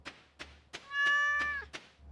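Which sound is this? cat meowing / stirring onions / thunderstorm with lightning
cat meowing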